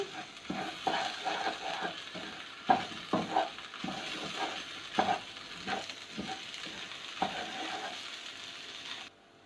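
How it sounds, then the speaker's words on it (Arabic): A spoon stirs tomato paste through a pot of sautéed lentil soup, giving a dozen or so soft scraping knocks at uneven intervals over a low, steady sizzle, close and moderately quiet, with no talking. "هضيف معلقة من معجون الطماطم، معلقتين كده زي ما انت عايزة، وهقلبهم تاني كويس جدا"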